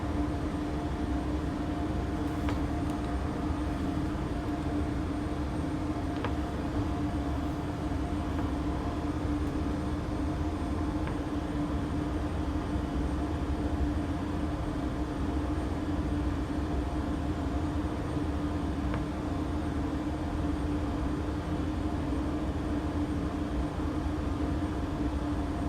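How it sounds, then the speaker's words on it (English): Jet engines of a FlightSimStudio E190 Freighter in a flight simulator game, a steady, droning roar with a sustained tonal hum during the takeoff roll, constant and unbroken with no talk. "we do need a little bit of thrust over here in order to get the aircraft going"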